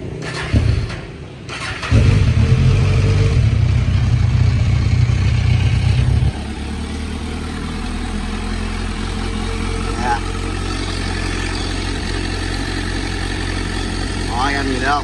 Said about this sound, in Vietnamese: Nổ máy cho anh em nghe chơi đi